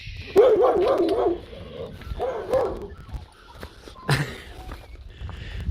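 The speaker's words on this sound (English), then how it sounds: "this dog that's barking" A dog barks and yips several times in short, loud bursts outdoors on a street where hard rubbish is out, with footsteps and rustling between the barks.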